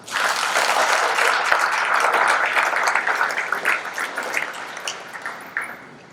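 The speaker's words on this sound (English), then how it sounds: "Please give them a round of applause." An audience at a high school ring of honor ceremony claps in a dense burst that slowly thins into scattered claps toward the end, with no talk over it.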